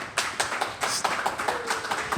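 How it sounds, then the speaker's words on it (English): A small studio audience gives a round of light applause for Holland Izz, with loose, uneven claps tapping out close by for a couple of seconds. "Clap it up again for Holland Izz"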